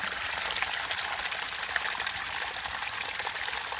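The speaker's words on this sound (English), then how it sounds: "this is where I get my water from. It just literally comes out of the side of the mountain" Spring water pours steadily out of rocks on a mountainside along the Appalachian Trail, making a continuous, close, hissing gush with no pauses.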